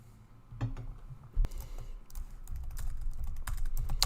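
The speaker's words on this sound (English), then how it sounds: "Let's type in ls to see what is in here." Someone types a short command on a computer keyboard, with soft, scattered key clicks at a moderate distance over low room hum and faint background noise.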